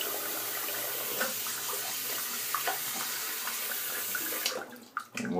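Water runs steadily from a tap as a shaver rinses off mid-shave, a continuous close hiss and splash that tapers off near the end.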